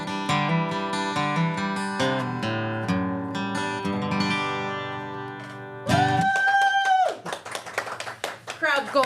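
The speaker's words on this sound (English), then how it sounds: "Crowd's going wild." At a live music set at the Wilkesville Fish Fry, a song with singing ends and a crowd breaks into clapping and cheering, the applause dense and close for the last few seconds.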